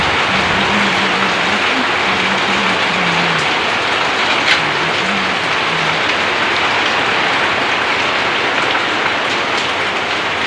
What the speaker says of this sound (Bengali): আবার বৃষ্টি নেমে গেছে